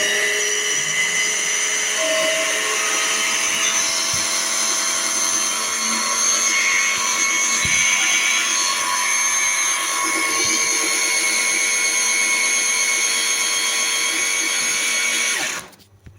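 A small food processor pulses lentils for burgers, its motor whining steadily and loudly with a tonal hum for about fifteen seconds before cutting off abruptly at the end.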